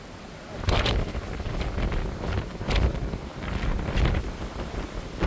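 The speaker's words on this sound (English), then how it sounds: "Wind!" Gusts of wind buffet an outdoor microphone on an exposed height with no handrails, swelling in roughly rhythmic surges of broadband rushing and low rumble over about five seconds, loud and close with no talking.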